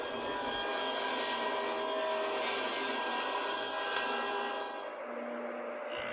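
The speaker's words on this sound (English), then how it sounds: "and then do your rip cuts" A 1984 Sears Craftsman table saw rips lengthwise through wood for molding, giving a continuous whining, rasping cut that softens as the blade finishes the pass.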